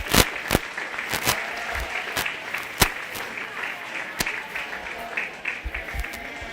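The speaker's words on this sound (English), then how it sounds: "Let's give these kids a round of applause, please." Audience applause at a 4-H/FFA sheep and little lambs show, a steady wash of clapping from a moderate crowd with a few sharp, close individual claps standing out, and no speech.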